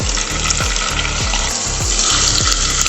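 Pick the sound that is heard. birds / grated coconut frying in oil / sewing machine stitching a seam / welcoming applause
grated coconut frying in oil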